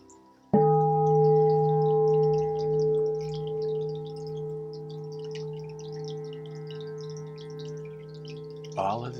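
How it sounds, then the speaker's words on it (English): A temple bell rings out once with a clear, sustained tone that slowly fades and lingers, then is struck again near the end, in a quiet setting near a Buddha statue and running water. "The sound of this bell."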